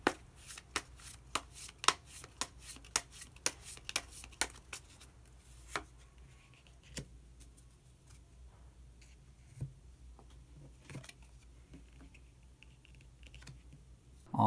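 Tarot cards shuffled and drawn for a reading, a run of quick, crisp card snaps and riffles in the first several seconds, then sparser soft card handling and faint rustles, close and fairly quiet with no talking.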